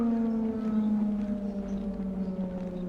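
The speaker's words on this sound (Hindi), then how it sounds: "भाई कोई तो सायरन बज रहा है, आई डोंट नो।" A siren in a horror video game wails in a long, steady tone with layered harmonics, loud and continuous throughout, with no talking over it.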